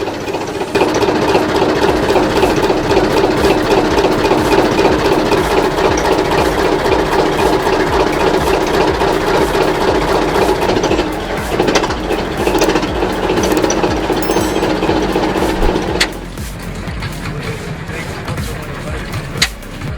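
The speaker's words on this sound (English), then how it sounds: "diesel engine from VB Schwermaschinenbau Karl Liebknecht, Magdeburg roars to life with 100 horsepower" A 100 hp East German stationary diesel engine built by VEB Schwermaschinenbau Karl Liebknecht in Magdeburg runs loud and steady, a dense mechanical clatter with rhythmic knocking that continues for most of the time, then drops to a lower idle near the end.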